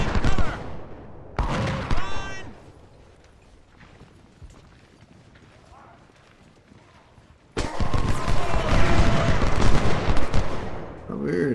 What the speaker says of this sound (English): We're hearing firing